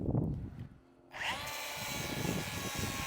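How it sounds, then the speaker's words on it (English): An M18 cordless grinder with a flap wheel grinds boat trailer metal, spinning up after a brief pause into a loud, steady, high whine that holds close by. "I forgot that I had an M18 grinder here with a flap wheel on it. So we're gonna try that now."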